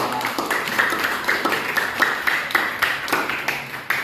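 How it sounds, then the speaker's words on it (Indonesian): A small group of people claps for a student named Aulia in a classroom teaching assessment, roughly a dozen fairly regular, moderately loud hand claps in steady rhythm, close by. "Tepuk tangan dulu untuk Saudara Aulia"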